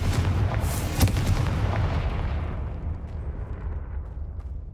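Blasting-spell explosion in a Harry Potter video game, a loud booming burst followed by a rumbling decay that fades over several seconds, alone without talk.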